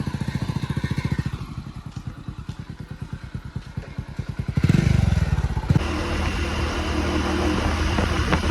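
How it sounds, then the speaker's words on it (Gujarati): A motorcycle engine chugs nearby in an even, rapid, pulsing idle, then swells into a louder, steadier drone midway as the bike pulls up close, with no talk over it. "તો મિત્રો બાઈક આવી ગયું"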